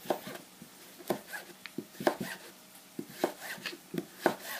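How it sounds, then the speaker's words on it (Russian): A knife chops carrots into thin strips on a cutting board, a quick series of crisp, close taps in an uneven rhythm with short pauses. "Морковь я нарезаю, ну, вот такой вот соломкой"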